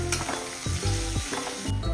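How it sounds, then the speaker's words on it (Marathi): Onion frying in a pan for a Malvani bombil curry, a loud close sizzle broken by a few scraping stirs and clinks of a spoon against the pan, with no talk. "कांदा आपण 1-2 मिनिटं भाजून घेतलेला आहे."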